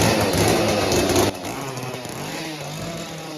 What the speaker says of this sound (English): And yes, that is a real chainsaw.